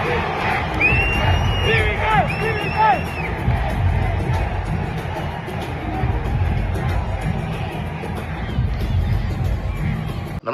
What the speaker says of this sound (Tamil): நேற்று சிவகார்த்திகேயனோட படம் பராசக்தியில் நடந்த ஆடியோ லான்ச், அதில் தான் இந்த டிவிகே சத்தம்.